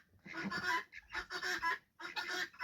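A sick bird with a deformed beak gives rough, hoarse wheezing honks in three short bursts, raspy and strained, heard close up with brief gaps between.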